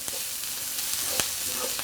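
Chopped garlic and onions fry in a pan, giving a dense, steady close sizzle with a few soft scraping stirs breaking through, and no talk over it.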